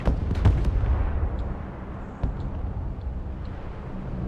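Heavy tank cannon fire in the Broken Arrow video game: a booming shot with rolling rumble at the start, then a second thud near the middle, all under a continuous low battlefield roar.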